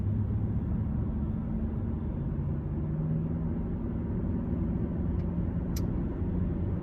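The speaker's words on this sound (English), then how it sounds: "the car will accelerate to 49 miles an hour" A Hyundai Sonata SEL accelerates on cruise control through a 50 zone, heard from inside as a steady, moderate low road and engine rumble without talk.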